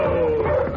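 Village dogs barking as a sound effect in a 1949 Straight Arrow radio drama set in a Comanche village by moonlight, a short sustained yelping bark heard up close and fairly loud.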